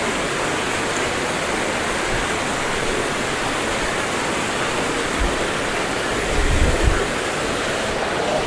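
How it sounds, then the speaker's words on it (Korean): A waterfall beside the Garibaldi Lake hiking trail spills down into the lake, making a steady, close, broadband rushing roar that holds evenly throughout with no voices. "폭포를 지금 보시고 계십니다."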